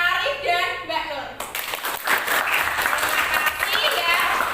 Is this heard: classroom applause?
yes